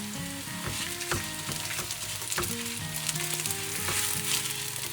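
Onion and dried chili frying steadily in hot oil until browned, a dense continuous sizzle with occasional crackles and stirring scrapes, close and fairly loud, with background music playing throughout.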